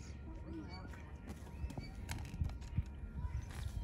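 Donkeys or small horses in a mini-zoo pen, heard as scattered hoof clatter and low snorting close by, with a soft whinny-like call, while people talk throughout.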